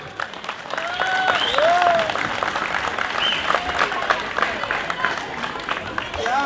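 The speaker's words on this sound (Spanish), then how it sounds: "Un aplauso para ellos." A crowd at a San Juan festival in Paraguay gives a folk dance group sustained applause, a thick continuous clatter of many hands with cheering and scattered voices mixed in.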